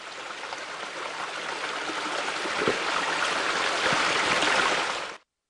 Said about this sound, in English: And then the streams flow right into the mines and out like this